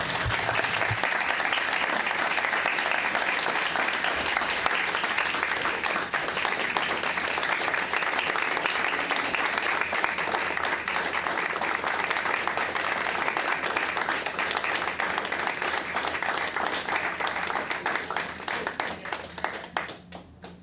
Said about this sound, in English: we all should give him a very large, resounding applause